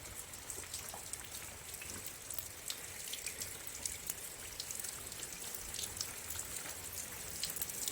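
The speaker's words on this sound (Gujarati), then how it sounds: "વરસાદ થઈ ગયો આજે ચાલુ ધીમું ધીમું" Light, steady rain falls without pause, a soft, even hiss scattered with tiny drop ticks, gentle and distant, no thunder and no voices.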